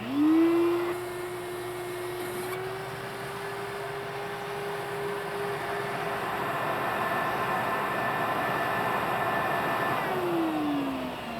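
A Shop Vac QVP quiet vacuum pump set up for wet pickup starts with a rising whine and runs as a steady hum with broadband airflow noise, then winds down at the end, close with no voices.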